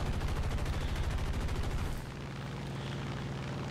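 American .50 caliber machine guns on a World War II fighter fire in War Thunder, a dense, loud, rapid rattle of shots that keeps going, then turns into a lower, steadier rumble of engine and gunfire.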